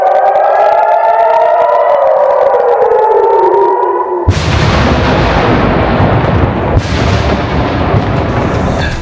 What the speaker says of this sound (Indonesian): Hampir setiap 10 menit sekali sirine berbunyi, pertanda mereka harus segera berlari ke tempat perlindungan